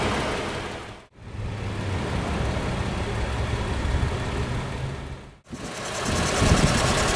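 A 2018 Lexus ES350's Toyota 2GR-FE 3.5-liter V6 idles steadily with a low, even rumble, broken by two brief cuts to silence, then resumes slightly louder.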